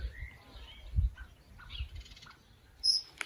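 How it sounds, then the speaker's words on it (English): Birds chirp outdoors in a few faint, short high tweets scattered over quiet background noise, with the clearest call near the end. "Oh, we've got some birds here."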